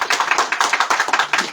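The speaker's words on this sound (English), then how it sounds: "I want you to clap for yourself." Rhythmic clapping from an audience at a town meeting with citizens of Nimba, a quick even series of sharp claps close by, with no talking over it.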